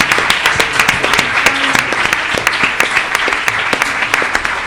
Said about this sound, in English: So could we have another round of applause?